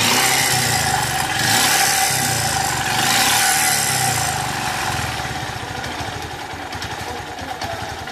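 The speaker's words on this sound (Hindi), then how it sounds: "तो बाइक को हम स्टार्ट करते हैं और इंजन की आवाज़ आपको सुनाते हैं" A Bajaj Pulsar 150 motorcycle engine in poor condition runs close by, loud and rough, with two throttle blips that rise and fall before it settles into an uneven, rattly idle.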